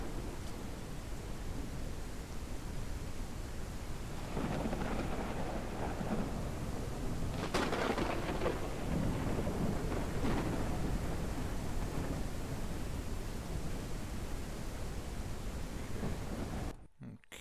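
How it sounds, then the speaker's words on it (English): Heavy rain pours down steadily in a video game thunderstorm, with a sharp crack of thunder near the middle and rolling rumbles around it, the downpour loud and continuous until it cuts off at the end. "Starting to absolutely chuck it down, thunderstorming."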